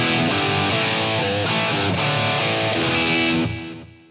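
An electric guitar played through a Line 6 Helix with delay and reverb rings out in chords and notes with a distorted edge, repeats trailing behind each strum before the sound fades out at the end.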